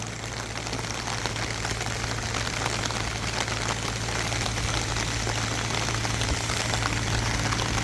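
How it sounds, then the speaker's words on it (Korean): Steady rain from a summer shower drums down on a pepper field in a thick, close hiss of drops, with a faint low hum underneath and no talking. "목마른 대지에 단비가 이렇게 내리고 있습니다."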